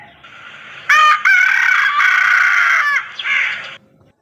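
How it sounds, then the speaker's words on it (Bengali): A rooster gives one loud, close crow lasting about three seconds, with a brief catch near its start and a fading tail, and nothing else is heard. "এটা হলো মোরগ। মোরগকে ইংরেজিতে বলে রুস্টার।"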